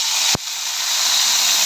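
Sardines fry in hot oil with garlic, a loud steady sizzling hiss broken by one brief pop near the start.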